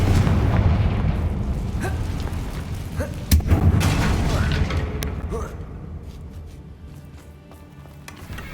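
A Confringo fire spell bursts with a sharp, heavy explosion in Hogwarts Legacy, ringing over a dense, rumbling game soundscape with a second smaller blast shortly after, both fading into a low background wash.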